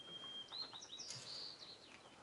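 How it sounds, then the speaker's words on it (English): White-crowned sparrow song played as a recording, a faint high whistled note followed by quick trilled chirps, thin and quiet over a soft hiss. "That's a white-crowned sparrow."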